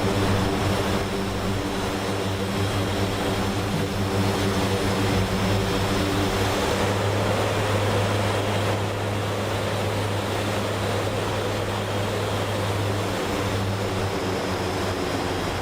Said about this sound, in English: we're up to 60, let's start the starboard engine